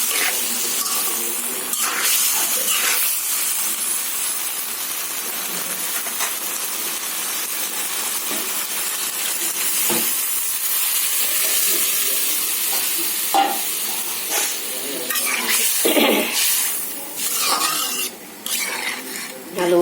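Potato and kakrol sautéed in a pan hiss and sizzle steadily as water goes in, with occasional scrapes and clinks of a spoon against the pan.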